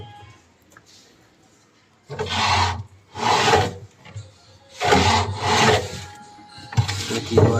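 A front-load washing machine with a sagging drum makes rough, scraping rubbing noises in four loud bursts, separated by quieter gaps, close by and with no talk.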